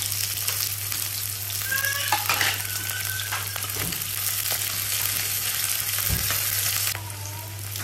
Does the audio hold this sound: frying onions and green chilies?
yes